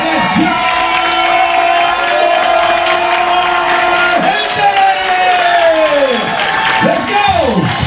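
A comedy show crowd cheering, whooping and shouting for the headliner, loud and sustained, with excited voices and a host's voice carrying over the noise.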